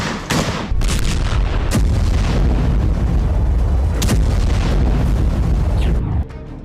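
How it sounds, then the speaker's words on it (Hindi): Rocket strikes hit Tel Aviv in loud, booming blasts with sharp bursts near the start and middle, over a continuous heavy rumble that cuts off just before the end. "तेल अवीव पर रॉकेट स्ट्राइक"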